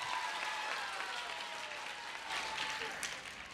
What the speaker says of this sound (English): And y'all can clap for him, too.